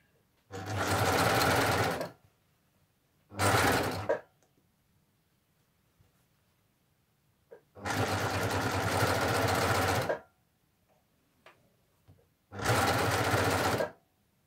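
A Baby Lock Ovation overlock machine runs in four separate bursts of fast, steady stitching, loud and close, with quiet pauses between runs.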